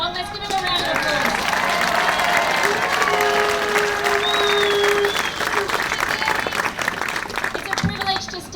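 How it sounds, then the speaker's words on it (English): Sustained audience applause for Bernie Finn at a pro-life event, a dense wash of clapping from a large crowd lasting throughout, with faint voices and a brief tone mixed in beneath it. "Let's give him a round of applause."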